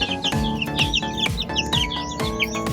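Young chicks about two weeks old, from a Sweater gamefowl cross, chirp in a busy overlapping chorus close by, with high repeated peeps and a few lower clucking notes over a backyard background.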